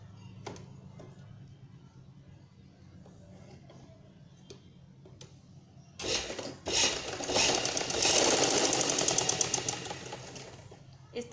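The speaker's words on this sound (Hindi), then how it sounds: "इस तरह से पूरे में सीधी सिलाई लगा देंगे।" After a few quiet seconds, a sewing machine starts up close by and runs a steady, loud, rapid stitching whir for several seconds while sewing a straight seam along cut fabric.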